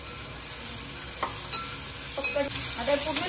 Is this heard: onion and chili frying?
yes